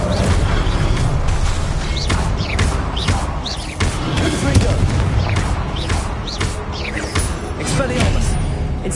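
Confringo blasting spells exploding in the Hogwarts Legacy video game: a string of sharp impacts and booms in rapid succession amid busy spell-combat noise, loud and close, with voices talking over the action.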